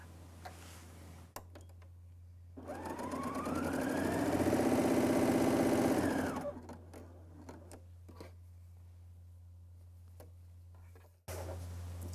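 A BERNINA L 620 coverstitch machine stitching fabric at a shorter stitch length, a steady whirring run that swells for a few seconds and then stops, with quiet handling noises and a constant low hum around it.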